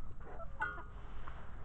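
Hens clucking in a backyard coop, a few close, short throaty calls with soft background rustle and no voices.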